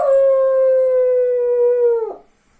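A cockapoo gives a single steady howl on command, near and fairly loud, held for about two seconds before cutting off into silence.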